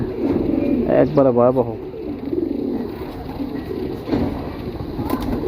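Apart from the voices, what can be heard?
pigeons cooing in a pigeon loft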